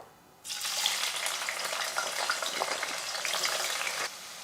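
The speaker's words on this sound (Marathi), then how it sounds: "आता त्याच तेलात आपण ह्या भाज्या तळून घ्यायच्या आहेत." Mixed vegetables frying in hot oil, the same oil used earlier for onions, for a veg biryani: a dense, steady hiss of sizzling that starts abruptly and runs loud and continuous before cutting off near the end, with no talking.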